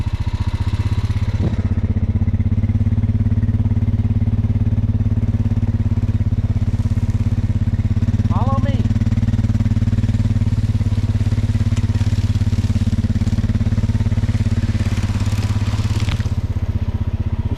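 A motorcycle engine drones steadily at low revs while riding down a hill on a cattle ranch, a constant close mechanical hum with faint brief squeaks and clicks mixed in and no talk.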